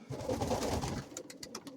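A pigeon coos softly in a low, throaty murmur, followed by a few brief rustles or light taps nearby.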